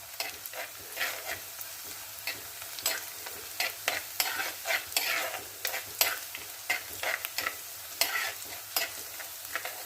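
Dried red chilies fry in a pan for a black pomfret curry. A soft, fairly quiet sizzle runs throughout, broken by irregular stirring scrapes.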